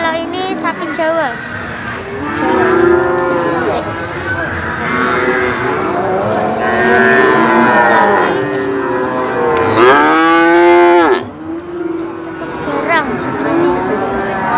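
Javanese cattle at a busy livestock market moo loudly and repeatedly, long drawn-out bellows one after another, close by, with someone talking through the calls and market bustle behind.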